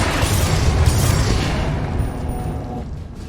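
A Confringo explosive spell in the Hogwarts Legacy video game bursts with a loud, deep boom that rumbles on and slowly fades over a few seconds, with no voices.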